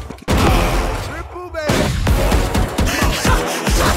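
Rapid bursts of Odin machine-gun fire from the game Valorant crackle loud and close in dense repeated volleys, with a brief pause partway through.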